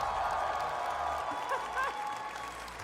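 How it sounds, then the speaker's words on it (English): Audience applause, a steady wash of clapping from a crowd with faint voices mixed in, moderately loud and sustained. "give a huge round of applause"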